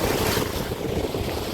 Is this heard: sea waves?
yes